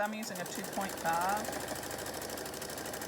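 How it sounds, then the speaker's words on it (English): Sewing machine stitching two sides of fabric together on a short stitch length, a steady close mechanical whir running throughout beneath a person talking. "I'm going to go stitch these 2 sides."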